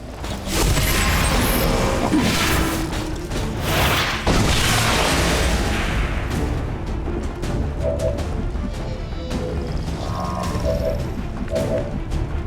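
Heavy booms and crashing debris from the Bombard ability going off in XCOM 2, loud and rumbling at first and then fading into scattered clanks and mechanical rattles.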